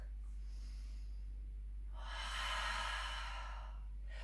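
A single audible breath drawn in during a Pilates exercise, a soft airy inhale swelling for about a second and a half, close and alone over low steady hum.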